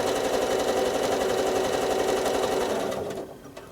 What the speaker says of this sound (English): the first thing we're going to do is stitch a slightly wiggly line all the way across our quilting space.